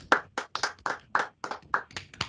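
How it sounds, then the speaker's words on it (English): Sparse, close hand claps from a small audience at a university business pitch competition, about a dozen separate claps in a loose, uneven rhythm, quiet with short gaps between them. "So let's give them a round of applause."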